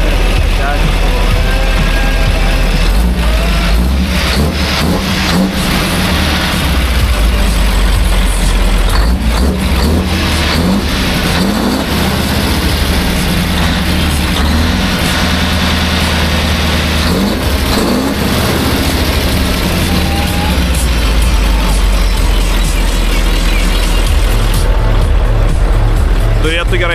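A Red Bull Formula 1 car runs its engine at the Klaipėda sea festival, a loud continuous roar with rising and falling revs across the whole stretch, while a crowd and nearby voices chatter underneath.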